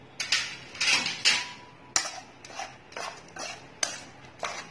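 Chickpeas roasting in hot salt in a pan are stirred, giving repeated gritty scraping and rattling strokes. The strokes fall at a steady, close rhythm, with no talking.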